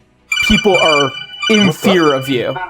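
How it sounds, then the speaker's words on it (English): A cell phone ringtone chirps and holds a steady high tone under lively overlapping voices during a tabletop role-playing session, the talk mostly covering the ring. "That was my phone."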